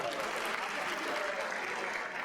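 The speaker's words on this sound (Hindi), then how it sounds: "इन बच्चों के लिए एक बार जोरदार तालियां।" Faint, continuous applause from an audience for children at the Delhi Games 2025 closing ceremony in Talkatora Stadium, a steady wash of clapping heard from a distance.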